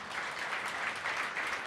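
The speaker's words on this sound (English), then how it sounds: "So you deserve another round of applause." Audience applause at an Opportunity Coalition gathering, a brief steady wash of many hands clapping at even volume throughout.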